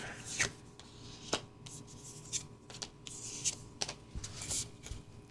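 Tarot cards are shuffled and riffled in quick bursts of papery flicks and soft rubbing, close by and quiet, with short pauses between bursts.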